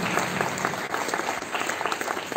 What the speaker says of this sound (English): Please clap for Rushali.